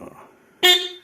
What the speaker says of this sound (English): Electric horn.